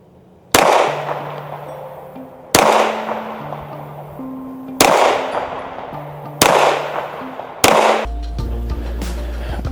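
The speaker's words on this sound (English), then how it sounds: "5 more rounds at the bottom target." Five sharp gunshots at a target, fired with an Olight Osight optic and spaced about two seconds apart, each a loud close crack with a short decaying tail.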